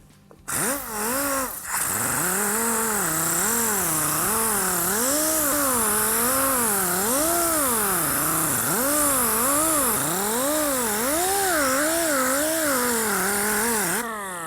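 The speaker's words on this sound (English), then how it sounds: "Now I'm going to sand it a little more with a 36 grit to make it really clean and rough." A lead-filled car body panel is sanded with 36 grit paper, a continuous loud whirring drone that wavers steadily in pitch for about twelve seconds after a brief start.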